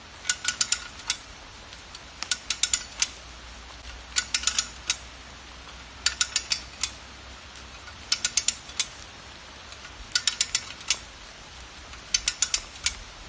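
A hand ratchet winch pulls on a vehicle stuck in mud, making crisp clicking bursts in regular groups of several quick ratchet strokes, each group followed by a short pause, close and clear with no voices.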